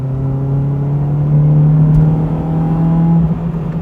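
A mapped Honda Civic Type R EP3 drones steadily from inside the cabin while driving, a loud, constant low engine hum that swells slightly midway and then eases off.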